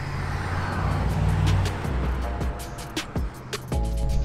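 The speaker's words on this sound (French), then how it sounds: "petite balade dans le Jura suisse au volant de cette Continental. Alors c'est le V8 de 550 chevaux" A Bentley Continental GT C with a 550-horsepower V8 drives through the Swiss Jura, its low engine drone steady and close, rising and shifting as gears change, with brief road and wind noise and no talk.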